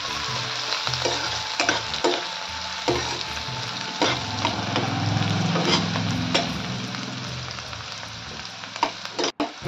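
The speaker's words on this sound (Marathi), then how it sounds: "हे बघा, छान लाल होईपर्यंत परतून घ्यायचं आहे." Chopped onion and garlic frying in a pan for a radish-leaf and moong dal dish, a steady broadband sizzle with repeated stirring clicks and scrapes, close and fairly loud, ending in a sharp knock.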